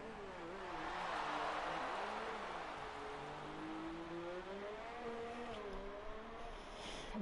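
A race car on a qualifying lap in Italy accelerates through its gears, the engine note rising and shifting steadily at a moderate distance, with no talk over it.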